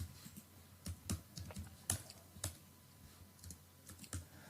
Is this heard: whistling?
no